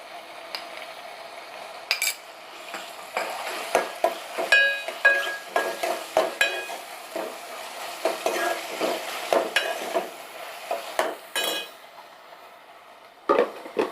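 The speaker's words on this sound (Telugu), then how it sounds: "తర్వాత కొంచెం అల్లం వెల్లుల్లి పేస్ట్ వేసుకోండి" Ginger garlic paste fries in a pan of chole masala gravy, with a low sizzle under repeated spoon stirring and scraping, plus occasional clinks of the utensil against the pot.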